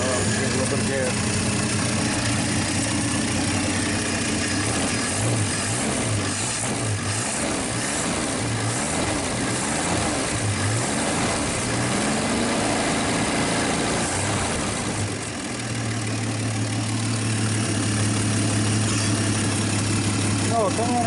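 Old 1951 Studebaker or 1948 Nash engine idling roughly with sputters and uneven revs, steady and close, while people talk over it throughout.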